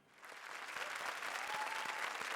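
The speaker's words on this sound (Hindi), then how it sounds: "तालियां।" Studio audience on a Hindi TV comedy show breaks into steady applause that swells within the first half second and holds at a dense, even level throughout.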